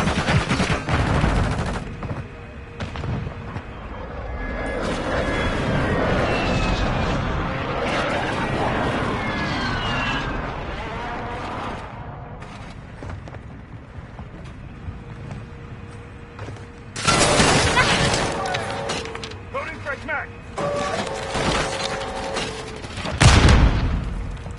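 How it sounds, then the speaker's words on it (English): Call of Duty MW3 match with a precision airstrike: steady rattling gunfire and aircraft roar build through the fight, then heavy explosions burst loudly in two clusters near the end. "Friendly precision airstrike inbound."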